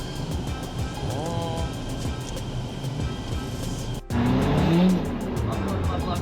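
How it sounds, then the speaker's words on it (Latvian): Audi Quattro driving on a frozen lake, a steady loud engine drone with a tire skid or squeal rising briefly in the middle and a surge of louder engine and ice noise toward the end. "tagad pamēģinās pirmo reizi ar Quattro braukt"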